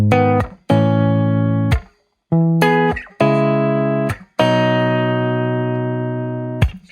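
Clean electric guitar through an amp, miked with a Shure SM7 on the grille at the cap, a Royer 121 off axis two inches out and a third mic, playing several sustained ringing chords separated by brief gaps, the last held long.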